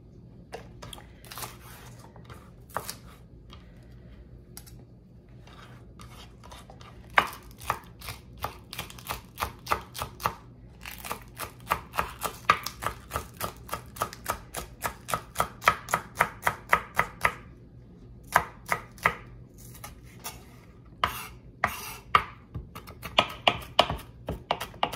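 Green onion being chopped with a knife on a cutting board, a quick run of sharp, close taps that speed up into a steady rhythm with a few short pauses.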